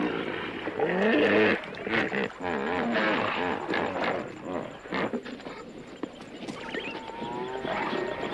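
Lions roar in the African savanna near a herd of hippos, deep rumbling calls overlapping in a loud, continuous stretch of animal noise with no talk.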